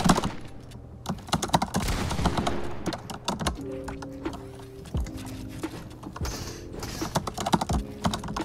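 Typing on a Razer Huntsman TE keyboard during a Fortnite session, a rapid irregular clatter of crisp keystrokes in quick bursts and pauses, close to the microphone with faint game sound underneath.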